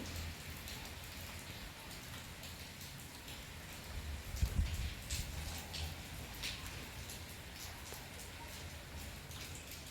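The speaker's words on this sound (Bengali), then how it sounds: "হালকা হালকা বৃষ্টি হইতেছে" Light rain falls outside on a cold day, a soft continuous patter of drops on surfaces with a slightly louder burst in the middle, steady and fairly faint throughout.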